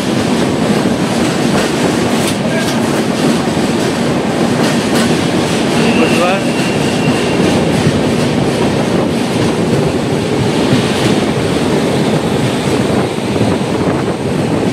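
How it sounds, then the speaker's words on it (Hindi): The Tinsukia to Bengaluru Express rolls on after leaving Alipurduar, giving a loud, continuous rumble and rushing noise with faint clickety-clack of wheels over rail joints, heard steadily from inside the moving train. "अलीपुर द्वार से अभी ट्रेन छोड़ चुका है"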